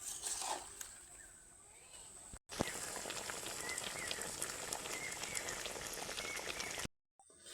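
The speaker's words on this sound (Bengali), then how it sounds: "চিনির রসটা কীভাবে ফুটছে দেখুন" Sugar syrup with ash gourd pieces bubbles in a pan for chal kumro murabba, cooked on low heat. It gives a steady crackling, bubbling hiss across most of the clip, with a brief gap partway and silence at the end.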